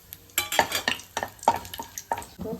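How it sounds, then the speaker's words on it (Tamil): Bay leaf, cinnamon, cloves and cardamom stirred in hot oil in a pan, close scraping strokes in a steady rhythm over a light sizzle, about five distinct stirs, with no voices. "பிரிஞ்சி இலை, பட்டை, லவங்கம், ஒரு பிஞ்சு ஏலக்காய் போட்டு கலக்கலாம்."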